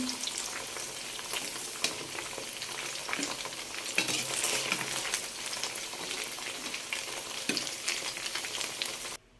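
Ham slices fry in oil in a pan, a steady dense crackling sizzle with scattered pops and a few soft utensil scrapes, close and continuous throughout.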